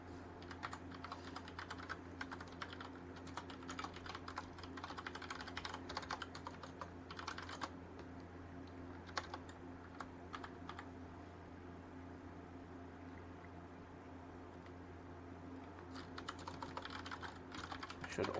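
Rapid typing on a computer keyboard during a software coding session, steady clusters of soft key clicks with brief pauses, close and quiet over a low fan hum, no talking.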